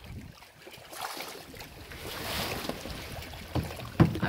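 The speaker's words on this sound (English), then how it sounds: "I'm getting hit by the waves" Waves slap against a paddled kayak on the sea at sunset. The rushing water and wind swell steadily, then come two sharper, louder splashes near the end, with no voices.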